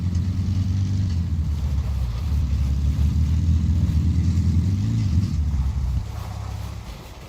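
A vehicle engine in the survival game DayZ runs with a steady low rumble and rising and falling revs for several seconds, then drops to a lower idle near the end, with no talk.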